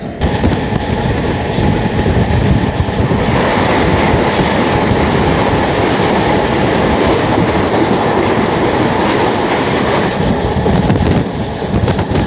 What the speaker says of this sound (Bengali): সামনে থেকে আসছে 20628 নাগেরকোয়েল চেন্নাই বন্দে ভারত এক্সপ্রেস।